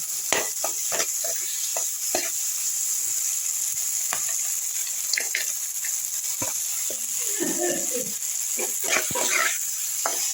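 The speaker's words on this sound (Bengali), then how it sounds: "বেগুন আর বড়িটা দিয়ে দিলাম" Fried brinjal and bori going into a pan of spices cooked down in oil, with a steady sizzle and scattered stirring scrapes and clicks throughout, close and moderately loud, with no talking.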